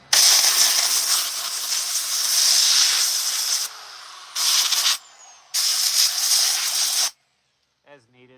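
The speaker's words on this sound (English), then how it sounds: "compressed air" Compressed air blasting buildup out of a chainsaw used for carving a wooden bear, several loud hissing bursts, one long and two short, separated by brief pauses, ending in a faint tail.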